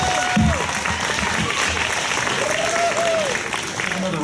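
An audience at a Mahatma Gandhi Day gathering applauds performers from the Empty Hands Pilgrimage with steady, dense clapping, while voices and whistle-like calls rise over it.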